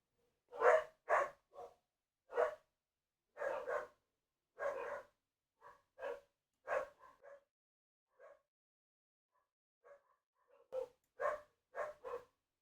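Dogs bark in a series of sharp, separate barks, some doubled, spread across the whole stretch with short silent gaps, fairly close and clear with no other sound.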